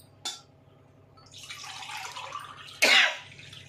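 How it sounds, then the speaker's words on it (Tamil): Water being poured into a cooking pot while making veg biryani with basmati rice, a soft splashing stream in a quiet room, framed by two short sharp knocks or clinks near the start and end. "இப்போ தண்ணி ஆட் பண்ணிக்கலாம்."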